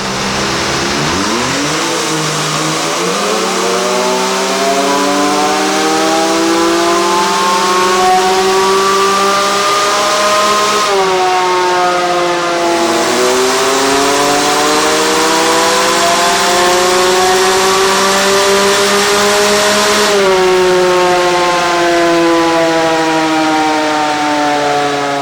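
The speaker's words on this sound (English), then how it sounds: "So let's jump in, run a couple times on the dyno," A Can-Am X3 side-by-side engine revs hard on a dyno, climbing through gears in three long loud sweeps that rise, drop at each shift and climb again, close and sustained with no voices.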